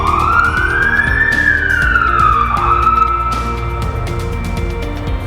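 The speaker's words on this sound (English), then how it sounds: "Hang on, more sirens." An emergency vehicle siren wails loudly nearby, its tone sweeping up then down in a slow cycle over steady traffic rumble, with a second fainter siren layered underneath.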